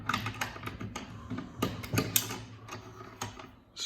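A Tikka T3X rifle bolt is worked to chamber a round, giving a series of close, crisp mechanical clicks and clacks in an irregular rhythm.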